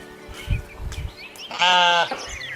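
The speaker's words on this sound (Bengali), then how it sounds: "ওই দেখ ছাগল এবার ম্যাম ম্যাম করে" A goat gives one clear, wavering bleat lasting about half a second, rising over a background of low thumps and faint rustling.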